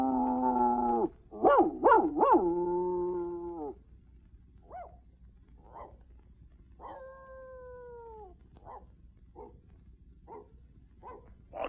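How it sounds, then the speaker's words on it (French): A cartoon dog gives two short yelps among other barks and howls, with a long harmonic howl at the start, then fainter scattered yips and a drawn-out whine, all clear and alone. "Un jappement, bref. Non, 2 jappements."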